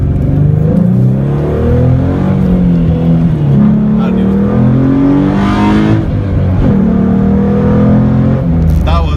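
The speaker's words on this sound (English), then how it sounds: "That was a little bit of wheel spin on third." A 2012 Ford Mustang with the 3.7L V6 pulls hard under full throttle with some wheel spin. The engine roars loud and close, its pitch sweeping up through the gears in a steady, unbroken run.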